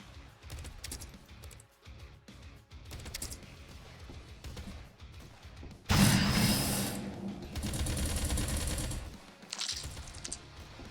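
Rapid machine gun fire in the Doomtrain video game, a dense burst of mechanical gunshots surging loud midway through, then easing off and returning briefly near the end.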